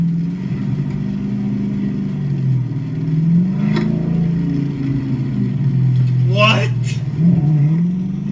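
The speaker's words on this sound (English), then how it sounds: "My car sounds like a goddamn animal." The engine of a 2017 Dodge Charger Scat Pack rumbles steadily, with a couple of brief swells in pitch like light revs. It stays loud and close under a voice.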